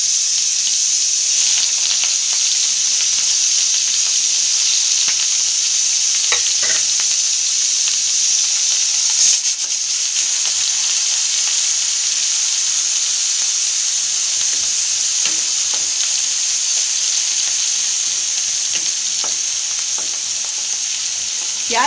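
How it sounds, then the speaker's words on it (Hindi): Finely chopped onion, one large onion, sizzles steadily in hot oil with cumin for Mumbai-style pav bhaji, a close, continuous frying hiss broken by occasional scraping stirs. "इसमें हम बारीक कटा प्याज डाल रहे हैं, ये मैंने 1 बड़ा प्याज लिया है।"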